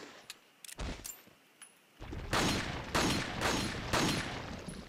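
Gunfire at a lock in Resident Evil 4: a few sharp, spaced shots early, then a rapid run of louder blasts with ringing tails and bullet impacts, close and punchy.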